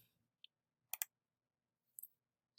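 A faint computer mouse click on a Save Changes button, heard as a crisp double click in near silence, with a few softer ticks before and after.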